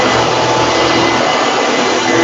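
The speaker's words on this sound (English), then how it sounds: "The vacuum is also very quiet" Pacific Floor Care vacuum cleaner running steadily at close range, a loud, unbroken broadband motor whoosh with no talk over it.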